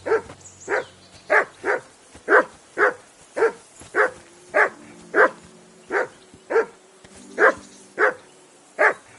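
A dog in Kingdom Come Deliverance II barks repeatedly in a steady rhythm, about fifteen sharp, fairly close barks spaced under a second apart, with no talk over them.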